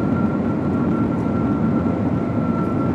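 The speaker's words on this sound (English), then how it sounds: "the train basically speeds up to top speed, stays there for maybe half a minute or a minute, and then begins slowing down and pulls into the station" A maglev train rumbles steadily from inside the cabin as it decelerates from about 415 km/h, giving a dense, continuous low roar with a faint steady whine above it and no speech.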